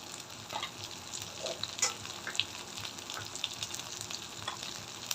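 Turmeric, coriander and chili powders sautéing in oil for a fish curry give a steady, faint sizzle with occasional stirring scrapes and small pops throughout.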